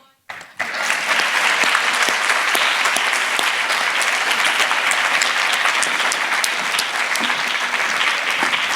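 Audience members at a school board meeting applaud recognized students, the sound rising abruptly and holding as a loud, dense, steady clapping for several seconds with no voices on top.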